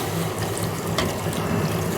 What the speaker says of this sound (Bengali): এখন আমি জল দিয়ে দিব একবারে ফুটানো গরম পানি